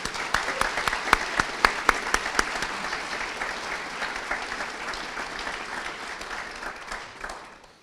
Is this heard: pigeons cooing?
no